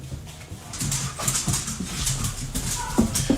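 Dogs whimpering and yipping to be let inside, with soft whines repeating over a steady background murmur and a few louder yelps near the end.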